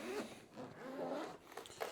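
A zipper pouch made to hold a camera, battery and tripod adapter is unzipped in a few quick scraping pulls, close and fairly quiet, with short rasping strokes and small pauses.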